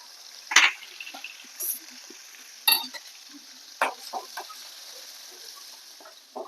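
Chili, garlic, cumin and mustard seeds sauté in hot oil with asafoetida, a faint steady sizzle broken by a few sharp pops and spatters from the seeds and scattered light clicks of a spoon, close and quiet without speech.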